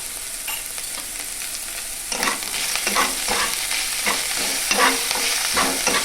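Onions frying in oil with salt, stirred by a spatula: a steady sizzle with repeated scraping strokes in an irregular rhythm that grows busier partway through, close and fairly loud, with no voices.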